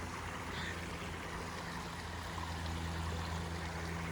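A small stream trickles steadily nearby in a nature spot, a soft continuous wash of water with a faint low hum beneath and no voices.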